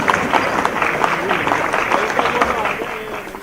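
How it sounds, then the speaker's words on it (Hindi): Applause welcoming the education minister at a parliamentary committee meeting in Jaisalmer, a continuous wash of clapping from a gathered crowd, steady and moderately loud, fading slightly toward the end. "माननीय शिक्षा मंत्री महोदय का तालियों से स्वागत करते हैं।"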